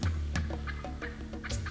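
Wild turkeys in a spring hunting setting: hens cackle in quick repeated notes while a gobbling call breaks in, close and clear against a steady low hum.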